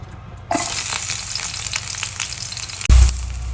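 Hot cooking oil sizzling in a pan for sautéed sardines with bitter gourd leaves, starting suddenly loud and hissing steadily, with a brief low thump near the end; no talking.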